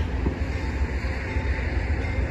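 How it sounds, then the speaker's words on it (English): A steady, low rumbling roar of a passing Norfolk Southern freight train moving slowly, continuous and droning throughout with no voices. "Gonna see that garbage train go through again."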